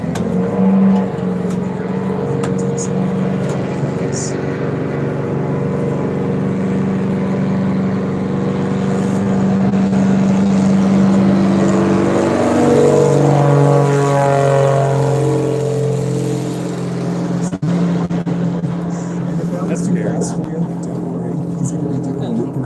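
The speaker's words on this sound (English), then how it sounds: "He'll begin to fire up his 150 horse Lycoming engine." A floatplane's 150-horsepower Lycoming engine drones steadily and rises in pitch as it powers up for takeoff on an Alaskan river, a loud continuous propeller roar with voices faintly underneath.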